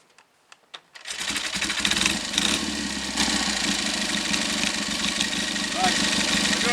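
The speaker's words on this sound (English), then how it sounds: "Put it into first gear and we'll start loading the engine up against the brakes." A Triumph/Royal Enfield Trifield 500 trials motorcycle engine starts after a few sharp knocks and settles into a steady, fast, close mechanical idle with a busy ticking clatter.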